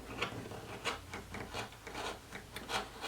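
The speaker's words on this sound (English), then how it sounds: "I'm just going to use my rotary cutter and clip off the extra edges" A rotary cutter trims the excess fabric edges of a basted huswif sewing roll, making close, steady rasping strokes that repeat in a quick rhythm with no talking.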